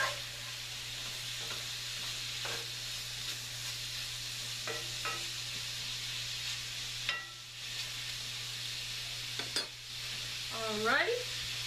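Pork and bell pepper stirred in a sizzling pot, a steady frying hiss with scattered scrapes and clinks of a utensil against the pot, close and moderate, no talking.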